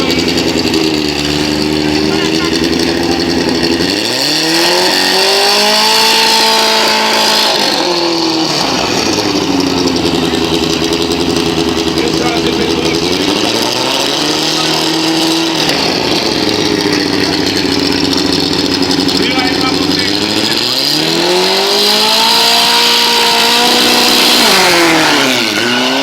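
A drag racing car in the CBA category at a Salvador drag strip revs repeatedly to warm its tires, its engine pitch climbing and falling in loud cycles throughout.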